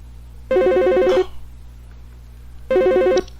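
A telephone at a home safety hotline rings loudly in two electronic trilling bursts, each about three-quarters of a second, separated by a short pause.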